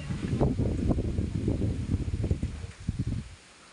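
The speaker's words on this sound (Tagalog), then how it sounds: "Ayan, so mahangin." Gusty wind buffets the microphone in low rumbling bursts, rough and uneven, before dropping off abruptly near the end.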